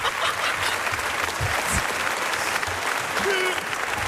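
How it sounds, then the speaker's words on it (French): Studio audience applauding on a French TV game show taped in Metz, dense steady clapping filling the whole stretch at even loudness, with no break. "On peut l'applaudir. Bravo."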